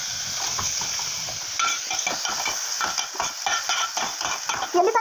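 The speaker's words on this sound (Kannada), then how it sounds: "ಟೊಮೆಟೊ, ಈರುಳ್ಳಿ ಎಲ್ಲ ಹಾಕಿ ಫ್ರೈ ಮಾಡ್ಕೊಂಡು" Tomato and onion stirred and fried in a pan, with rhythmic spoon scrapes and clicks over a soft sizzle that grow louder and busier toward the end.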